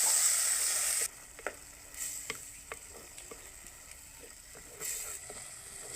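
Onion paste frying in a pan for egg gravy opens with a loud burst of sizzling, then drops to a quieter crackle broken by spoon clinks and scraping, before a short second flare of sizzle.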